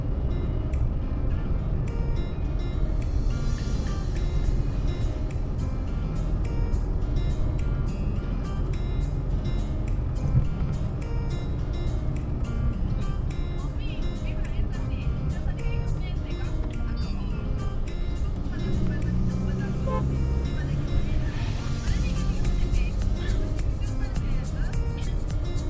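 Tata Nano Automatic small car driving at night in rain and traffic, with a steady loud rumble of road and engine noise throughout, overlaid by continuous background sound and some tonal interior noise.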